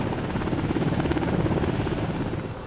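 A Coast Guard helicopter thrums with a steady, pulsing rotor chop, fairly loud and continuous throughout with no voices.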